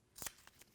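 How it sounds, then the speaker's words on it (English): Tape is torn off by hand for a drawer front installation, a short sharp rip followed by two faint softer tears, close and quiet. "So what we do is we just tear off 4 pieces of this tape."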